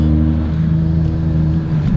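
A BMW 335i engine idles close by, a deep, steady rumble with an even hum, being checked for a cylinder misfire; no voices are heard over it.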